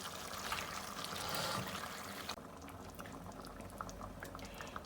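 Chicken karahi with yogurt frying down in a pan until the liquid cooks off, giving steady close bubbling and sizzling that shifts to a lighter crackle partway through, with no voices.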